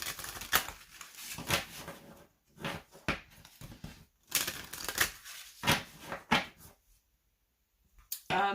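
Cardstock oracle card deck being shuffled, with bursts of riffling and flicking card sounds separated by short pauses, fairly close and moderately loud, ending in near silence before a final burst.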